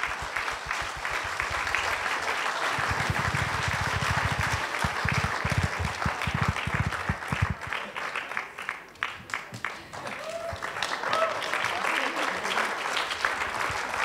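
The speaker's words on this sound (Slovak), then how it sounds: "Privítajme ho veľkým potleskom." Studio audience applause welcoming a guest onto a Slovak talk show, steady clapping that turns into rhythmic clapping in unison midway and then goes back to looser applause, sustained for the whole stretch at moderate loudness.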